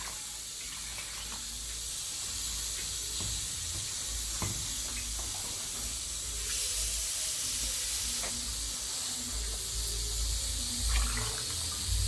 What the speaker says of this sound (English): So I'm going to add water barely to cover it.